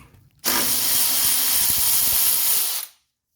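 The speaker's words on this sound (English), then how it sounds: "go ahead and remove the 13 millimeter bolt and spacer" A power tool spins out a 13 millimeter bolt holding a spacer on the axle of a 1985 wagon, one continuous loud whirring burst of about two and a half seconds that cuts off sharply, close, with no talking.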